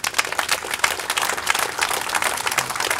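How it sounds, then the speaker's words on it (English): Outdoor crowd applause for the Hawthorne firemen at a 2007 9/11 memorial ceremony: sustained, dense clapping from many people, steady and fairly loud for the whole stretch with no talking over it. "Let's give them a hand clap."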